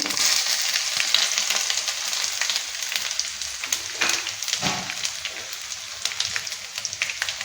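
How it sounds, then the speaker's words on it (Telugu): Steady crackling sizzle of dried red chillies and tempering spices in hot oil, loud and close, with no one speaking. "ఆయిల్ వేడైందండి అలాగే రెండు ఎండుమిరపకాయలు పోపు దినుసులు"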